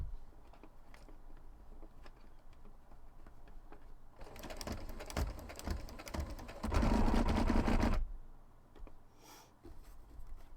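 Domestic sewing machine running a straight stitch across fabric on a corset: a steady, close, rattling mechanical whir for about four seconds that rises louder toward the end before stopping, alone against a quiet room.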